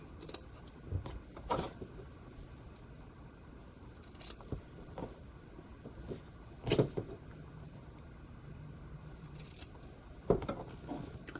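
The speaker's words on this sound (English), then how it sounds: "what I'm going to do here is snip off these little parts where I'm going to be joining them in the center" Scissors snip through scrappy quilt fabric pieces, trimming small corners in a few sharp, separate cuts spaced apart over a quiet room background, with no talking.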